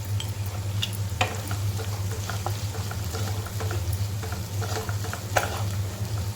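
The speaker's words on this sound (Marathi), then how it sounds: "आपण फिरवून घेऊया थोडंसं कांदा आणि टॅमॅटो शिजायला पाहिजे लवकर" A spoon works through onion and tomato with salt in a pan, with irregular scrapes and clinks against the metal over a continuous low hum and soft sizzle, close and without speech.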